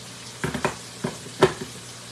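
Corn frying in butter in a saucepan, a soft steady sizzle broken by several short louder crackling bursts, fairly close, with no talk.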